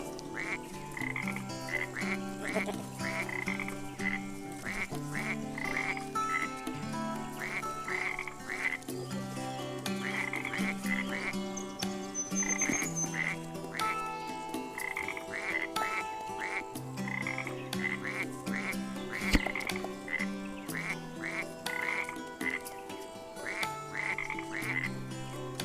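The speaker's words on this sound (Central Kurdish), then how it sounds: "بۆق" A frog croaks in steady, rhythmic repeated bursts, close and clear, over a continuous tuneful background.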